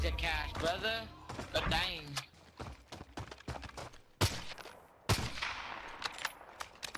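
Gunfire in Call of Duty Warzone cracks in scattered bursts of sharp shots, a few louder blasts standing out, mixed under someone talking over the gameplay.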